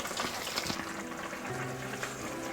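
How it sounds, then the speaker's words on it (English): Pieces of turkey fry in hot oil, giving a steady close sizzle with bubbling crackle throughout and a few soft knocks of utensils, no voices. "Okay, so let's fry the last one."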